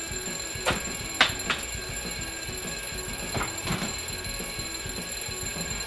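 A novelty alarm clock goes off with a few short, separated chirping bursts over a steady high electronic whine and background hum.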